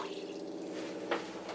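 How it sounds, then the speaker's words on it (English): Water running from a tap inside a skoolie school bus conversion, a short steady splashing flow with a small burst of dripping, close by and without talk. "So, that is the hot water's working and the cold water."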